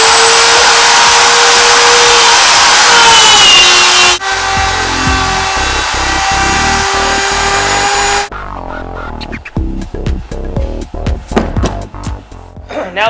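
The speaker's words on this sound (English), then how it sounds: "So, we fire up the router." Wood router with a spiral upcut bit cutting a subwoofer box, a loud, steady high whine for about four seconds that drops to a lower continuous roar, then breaks into uneven bursts of cutting and stopping.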